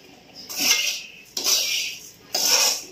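Sugar being stirred in a hot kadai, with three bursts of metal spoon scraping and clinking against the pan separated by brief pauses, close and moderately loud.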